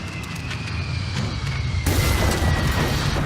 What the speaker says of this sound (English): Little bit of turbulence. There's a whole lot of shaking going on.